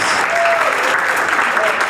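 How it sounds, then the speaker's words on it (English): A comedy club crowd claps for itself, a short stretch of steady, fairly close applause with faint voices in the room. "Clap for yourselves."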